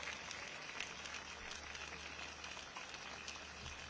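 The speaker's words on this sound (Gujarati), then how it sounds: "બે હાથ ઊંચા રાખી જોરદાર તાળીઓ પાડી લો બધા" A rally crowd claps steadily, a quiet, distant wash of applause that holds evenly without breaks.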